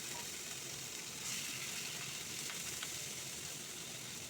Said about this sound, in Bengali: এরপর মূলো শাকগুলো ওতে দিয়ে দিলাম